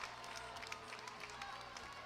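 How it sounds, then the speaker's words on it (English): Home crowd at a high school basketball game, cheering and clapping from the near side of the floor as a steady wash of applause, heard faintly and at a distance under an announcer's voice. "Pro Highlander crowd on the near side of the floor likes it."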